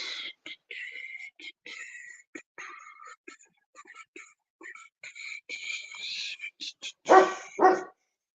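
A dog barks and yips repeatedly in short, sharp bursts, a bit distant, ending with two louder, fuller barks.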